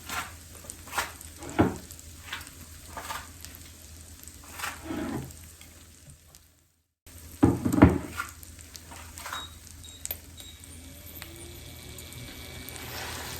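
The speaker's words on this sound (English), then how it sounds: "And while it's cooking, I like to press it down so that, once again, it doesn't absorb too much oil and it cooks through." Egg-soaked bread for Indian French toast frying in oil in a pan, a steady close sizzle and crackle with occasional spatula presses and scrapes, briefly cutting out before resuming.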